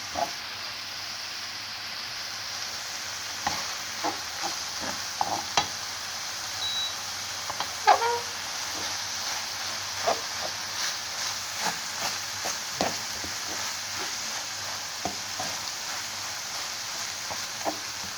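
Minced meat sautéing in a pan for the filling of içli köfte, a steady soft sizzle with scattered stirring scrapes and clicks throughout, no voices.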